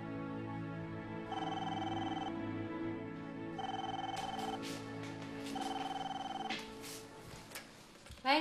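A telephone bell rings in repeated electronic trills in a household, three evenly spaced bursts with pauses between, clear and moderately close.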